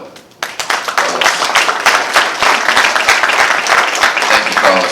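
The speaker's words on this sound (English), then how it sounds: "Let's give a round of applause to Carlos Alfonso." A crowd at a press conference for a national championship host community breaks into loud, close applause, with sharp individual claps standing out from a steady dense patter that keeps going.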